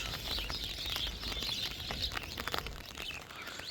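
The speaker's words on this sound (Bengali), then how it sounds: "পাখির আওয়াজ" Birds chirp faintly in a foggy village garden beside a mustard field during light rain, thin high calls coming and going over soft rain patter, distant and quiet.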